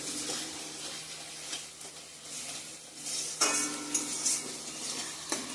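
Spice paste for egg curry sautés in a pan with a continuous soft sizzle, while a spoon stirs and scrapes against the metal in a few sharper clinks close by.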